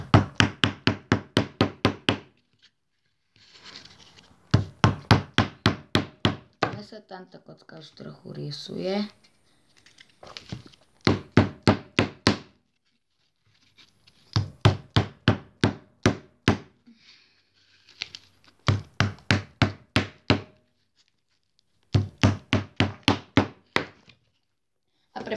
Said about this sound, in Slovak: tak si zoberieme túto panku alebo to kladivo. A tento to tak ducháme